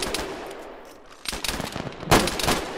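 DShK heavy machine gun firing from a technical in the Arma video game, sounding as loud bursts of gunfire in clustered volleys with a sharp heavy burst near the end.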